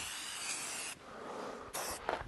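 Primer sprayed from an aerosol can onto a metal part leaning on a fence outdoors, close hissing bursts with brief pauses between them.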